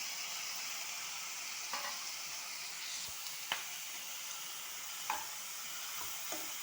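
Chopped tomatoes sauté in a pan with a steady broad sizzle throughout, broken by a few soft scraping stirs and light clicks; no voices.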